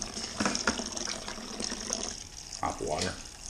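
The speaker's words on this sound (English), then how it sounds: "So we're going to cut off the hot water shortly." Hot water runs from a tap into a homebrew beer kettle, a steady rushing pour that swells and dips over a few seconds while a person talks over it nearby.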